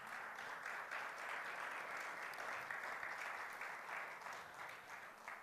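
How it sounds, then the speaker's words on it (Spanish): A church congregation at a bilingual worship service applauds. Steady, even clapping sounds faint and distant and holds at the same level for about five seconds. "Dale un aplauso al Señor."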